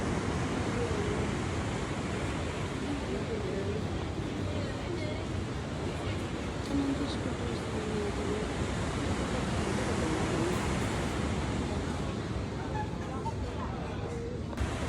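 Sea waves at Jimbaran Bay, Bali, a continuous broadband roar of surf with wind buffeting the microphone, steady and fairly loud throughout, with faint voices and restaurant bustle underneath.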